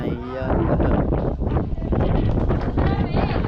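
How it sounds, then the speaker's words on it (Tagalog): Strong wind buffets the microphone with loud low rumbling gusts, while a voice talks briefly at the start. "Lakas ng hangin."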